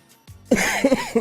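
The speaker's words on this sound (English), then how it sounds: "That cough tore me up, man." A single harsh, rough cough bursts out close by, followed by a couple of short throaty hacks, with no talking.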